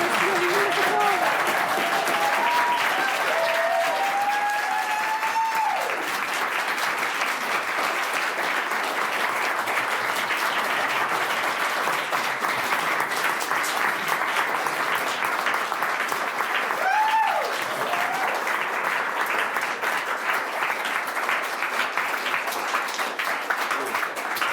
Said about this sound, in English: Everybody applaud Stephen.